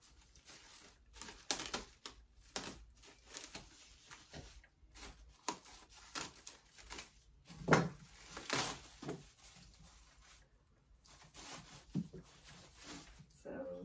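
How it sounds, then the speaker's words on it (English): Packets of pink felt clothes hangers are unwrapped, giving irregular crinkling and rustling bursts of plastic with soft knocks and pauses, quiet and close. "It's time to unwrap the hangers."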